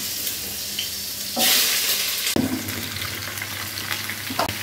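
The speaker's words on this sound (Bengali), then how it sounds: "এগুলো একটু ভালো করে ভাজি ভুজি করে নেই" Gourd, pumpkin and potato pieces fry in hot oil with panch phoron in a wok, a steady close sizzle with a louder hiss as the vegetables go in, then continued crackling frying with a few scraping stirs.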